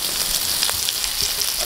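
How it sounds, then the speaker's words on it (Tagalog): Onions and chili frying and caramelizing in a pan for spicy binagoongan, a steady close hiss of sizzling with a few faint stirring clicks, no talking. "Caramelize na yung ating sibuyas."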